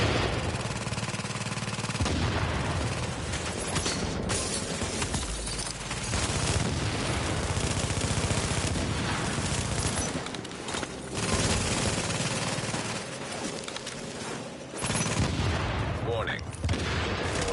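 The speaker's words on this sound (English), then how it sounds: "Tom, why are you shooting me?" Gunfire in a video game rattles almost nonstop in loud, dense bursts, mixed with booming blasts and heavy background game noise throughout.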